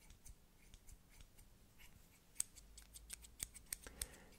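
A pen with built-in scissors under its cap snipping, a series of soft, sharp clicks and cuts, sparse then quickening toward the end, quiet and close, with no voices.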